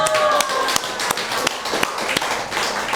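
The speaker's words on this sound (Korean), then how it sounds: "죽은 사람들 박수 한번 쳐주십시오" An audience at an evangelistic church meeting claps in a sparse, uneven pattern of sharp taps, about a dozen distinct claps over a hum of room noise.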